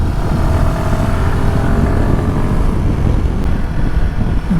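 A Royal Enfield Himalayan 452 motorcycle accelerates on the road, with a loud, steady engine and wind roar close to the rider and no talking.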